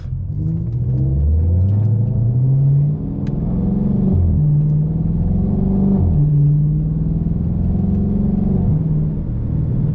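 A Chrysler 300 with a ZF 8-speed automatic accelerates hard, its loud engine drone climbing in pitch and dropping at each quick gear change, several upshifts in a row over steady road rumble.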